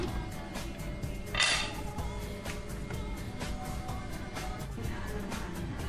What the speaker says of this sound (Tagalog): Takpan muli para maluto yung carrot.